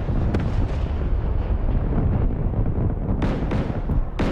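Ships blow up under shellfire in a naval battle video game, a continuous loud rumbling roar of explosions with sharp blasts breaking through near the start and end.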